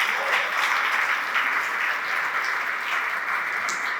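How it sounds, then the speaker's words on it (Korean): A seated audience at the 2024 Esther Ha Foundation 10th Annual Gala gives steady, even applause, with many hands clapping together throughout and no clear voices. "그분들께 박수 한번 부탁드립니다."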